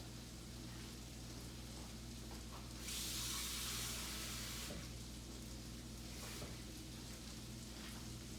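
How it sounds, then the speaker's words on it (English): Water, three quarters of a cup, poured into a hot pan of chickpea wrap filling gives a loud burst of hissing sizzle lasting about two seconds, then settles back into a steady cooking crackle. "3/4 cup of water, and that's going to go in right now."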